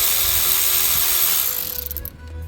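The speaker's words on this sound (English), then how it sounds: "that's a T30 Torx to get the bolt off" Power tool driving a T30 Torx bit to remove the camshaft position sensor bolt on a Mercedes engine, a steady loud whirring spin that winds down and stops near the end, with no talk.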